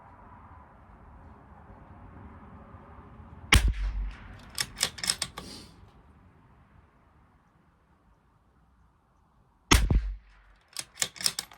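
Two sharp, loud .22 rifle shots with CCI Standard Velocity ammunition from a bolt-action rifle at a 100-yard range, each a sudden crack followed by quick metallic clicks of the bolt being worked, spaced several seconds apart with quiet between them.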